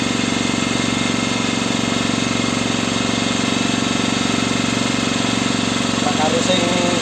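A boat engine runs steadily at sea during a fishing trip, a loud continuous mechanical drone with a throbbing low rumble that holds unchanged throughout, with faint voices briefly near the end.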